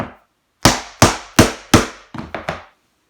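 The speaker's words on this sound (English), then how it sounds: "Grab a soft face mallet, and we're going to just kind of hammer this down to secure this." A soft face mallet strikes vinyl flooring planks being installed, four loud, evenly spaced thuds followed by three quicker, lighter taps, close and alone with no voices.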